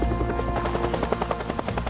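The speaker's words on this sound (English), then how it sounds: "Bell's new helicopter was originally called the Iroquois by the U.S." A Bell UH-1 Huey (Iroquois) military helicopter drones close and loud, its rotor beating in a rapid, regular chop over a low engine hum, with no talk.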